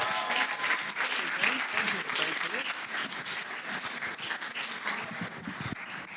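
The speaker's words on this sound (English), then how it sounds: "So we can have a round of applause for Jamie." Sustained crowd applause for a speaker at an awards event in a hotel ballroom, many hands clapping steadily with murmured voices and some chatter mixed underneath.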